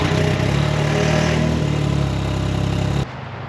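A Can-Am Ryker engine fitted with a polished RLS Twin Kaos exhaust runs loud and close with a throbbing low rumble for about three seconds, then drops abruptly to a quieter idle.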